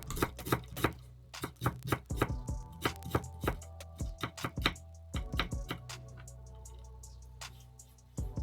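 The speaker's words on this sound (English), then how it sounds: "All the while you're cutting, make sure to have your knife resting against your knuckles, using them as a guide" A kitchen knife chops food on a cutting board while preparing sirloin steak, giving sharp, quick clusters of taps with brief pauses between bursts, close and clear with no talking.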